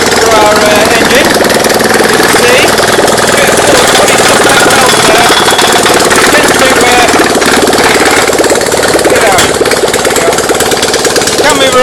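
A generator engine bolted into a newly built mounting stand runs loud and close, a rough, rapid, hammering chug that holds steady throughout.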